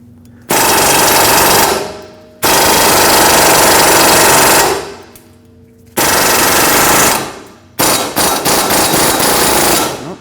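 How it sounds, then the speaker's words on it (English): An impact-style power tool hammers loudly and close on a stuck ball joint of a Nissan Frontier, rattling in four long bursts with short pauses between. "we'll put our power tool on this and try to spin it free"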